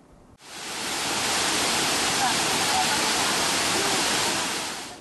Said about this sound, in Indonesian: Deru air yang tumpah